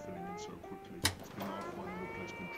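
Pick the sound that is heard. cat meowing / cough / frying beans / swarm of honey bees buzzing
cat meowing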